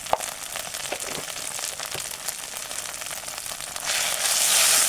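Ground ginger, coriander, cumin paste and turmeric frying and being stirred in a pan, giving a dense crackling sizzle with light scraping throughout and a louder hiss swelling in the final second.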